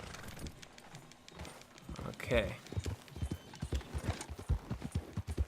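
Horse hooves clip-clop in a rapid galloping rhythm in Red Dead Redemption II, loud and close, with a brief whinny and someone talking over the hoofbeats.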